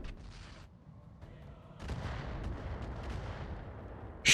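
Weapon fire in the BattleTech game Roguetech, aimed at a Swordsman mech: a dense rumble of repeated gunfire and artillery-like blasts that builds midway and ends in a sharp, loud burst.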